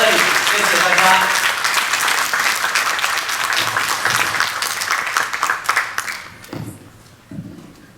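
A church congregation at an Easter service applauds in a loud, dense burst of clapping that gradually thins and fades toward the end, with voices mixed in.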